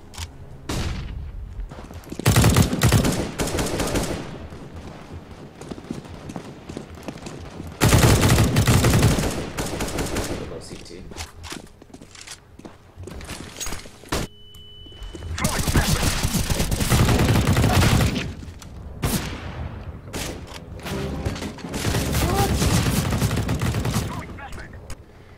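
Rapid gunfire from the video game CS:GO comes in several loud bursts separated by quieter gaps, some bursts sustained for a couple of seconds.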